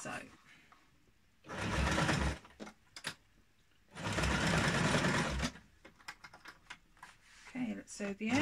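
A sewing machine stitches along the edge of a homemade fabric kick-scooter bag in two loud sustained bursts, separated and followed by quieter clicks and handling noises.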